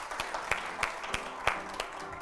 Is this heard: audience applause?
yes